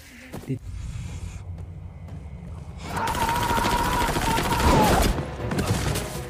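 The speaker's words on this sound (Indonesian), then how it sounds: "Kemudian terdengarlah suara tembakan yang langsung mengenai beberapa dari mereka" Bursts of gunfire crackle and rattle in rapid succession, loud and close, mixed with shouting and a sustained tonal sound.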